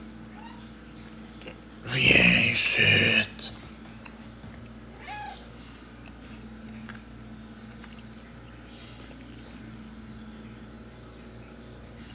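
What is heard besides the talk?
cat meowing in a video game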